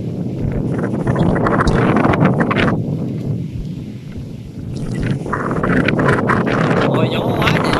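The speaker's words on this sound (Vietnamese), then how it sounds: "Ôi gió quá trời gió luôn á." Strong wind buffeting an outdoor microphone near a boat on the water while checking crab traps, loud rumbling gusts that swell and ease, with voices talking underneath.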